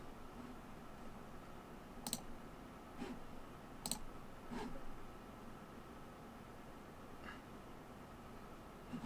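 Computer mouse clicking at a desk, a few sparse, faint, sharp clicks over steady low background hiss with no talk.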